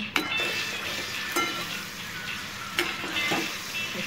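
Sugar being stirred into a sweet and sour chutney in a pan, with steady sizzling and a few sharp spoon scrapes and clinks against the metal, close and alone with no voices.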